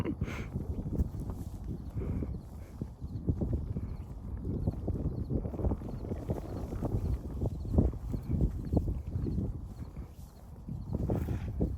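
Belgian Draft horse walking, its heavy hooves clip-clopping in a steady, close rhythm throughout, with faint voices now and then.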